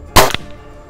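Cometa Fusion Galaxy air rifle fires a 15.43-grain Pro Magnum pellet, a single sharp close crack with a quick faint impact just after, then quiet.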